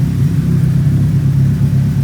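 Close, deep rumble of a Nissan 180SX engine running steadily, throaty and loud, with no talking.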